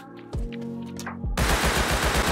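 Rust video game gunfire: a couple of single shots, then a fast sustained automatic burst of loud, closely spaced rounds.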